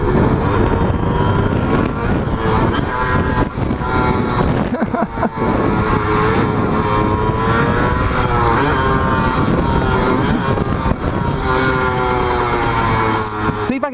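A Suzuki DS100 dirt bike engine revs hard and wavers in pitch through shifting throttle, loud and close over wind noise, with brief dips and surges as the rider pushes it.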